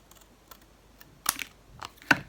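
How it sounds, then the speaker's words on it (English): Scissors make a few crisp snips through cereal-box cardboard to cut a bookmark shape. The cuts are close and sharp, two or three louder snaps among faint rustles, with no talking. "All you need to do is snip off this section."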